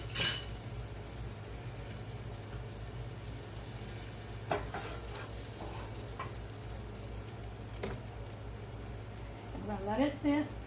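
Beaten eggs with onions, bell peppers and bacon frying in a pan give a steady soft sizzle throughout, with an occasional light scrape or clink of a utensil and a voice speaking faintly.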